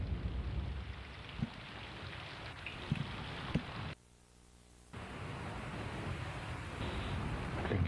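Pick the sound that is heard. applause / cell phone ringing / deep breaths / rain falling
rain falling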